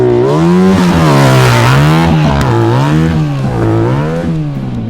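A small engine runs loud and steady after being refilled with fresh gasoline, its revving rising and falling in slow, wavering surges throughout with no voices over it.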